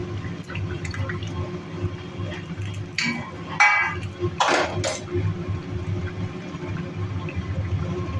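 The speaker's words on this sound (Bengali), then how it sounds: "ঝোল ফুটে গেছে, এইবার দিয়ে দেবো ভেজে রাখা মাছগুলো" Fried boal fish pieces go into a pot of boiling curry broth with eggplant and potato, bringing a couple of brief splashy sizzles over a steady low bubbling simmer.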